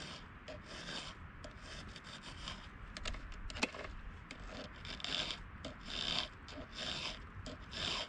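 Continuous hand filing of a chainsaw chain with a round file, repeated rasping strokes in an uneven rhythm, close and moderately loud, with no talking.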